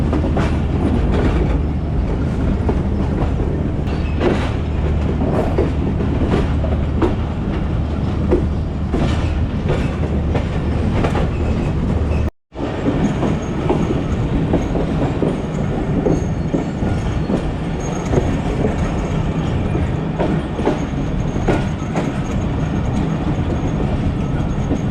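The 45UP Pakistan Express runs on rails between Multan and Rawalpindi, a loud continuous rumble with rhythmic clickety-clack of wheels over rail joints, heard from on board with a brief cut midway.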